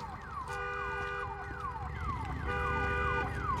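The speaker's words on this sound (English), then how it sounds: "Also, I shot that car alarm." In the post-apocalyptic video game Days Gone, a car alarm blares continuously with a repeating sweeping siren-like wail and steady tones over a low rumble of background game sound, with no talking.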